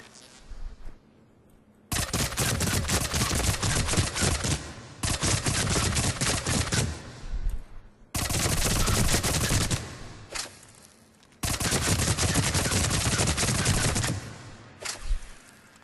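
The Tempest gun in the video game Mass Effect 3 fires in loud, rapid automatic bursts, four long volleys separated by short pauses, with no talking.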